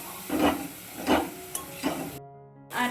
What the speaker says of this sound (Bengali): এবার মশলাটা নাড়িয়ে ফাড়িয়ে আমি